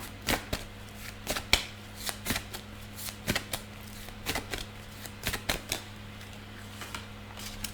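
Tarot cards being shuffled close by, a series of soft riffling and snapping bursts in an uneven rhythm against a faint steady hum.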